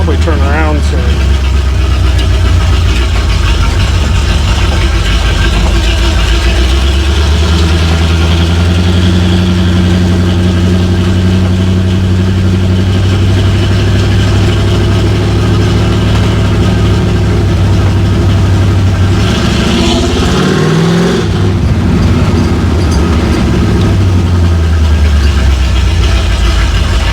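A 1955 Buick Super engine roars loudly while driving, a steady heavy drone with rising and falling revs and a brief shift or bump near the end, with someone talking over it.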